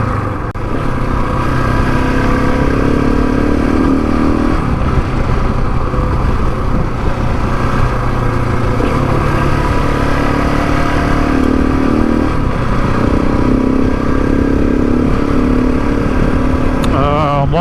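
A KTM 690 single-cylinder motorcycle engine on a Sunday ride, a loud, steady droning thrum heard from the rider's position with slight shifts in pitch as the speed changes, plus faint wind noise.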